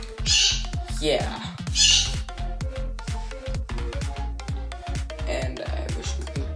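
Parrot squawks come in loud harsh bursts, with one near the start and one around two seconds, over busy music with a steady percussive beat.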